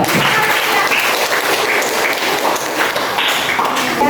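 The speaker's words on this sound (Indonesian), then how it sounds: "Kelompok 3, tepuk tangan dulu." A school class applauds a student group coming forward to present, a brief burst of lively, close clapping from many hands with scattered taps and thuds in a classroom.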